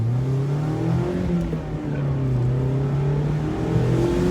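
A Mazda Miata with the top down drives along, its engine droning steadily and revving up and down at close range with no talk.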